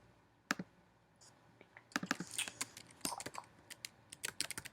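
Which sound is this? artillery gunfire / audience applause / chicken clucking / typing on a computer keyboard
typing on a computer keyboard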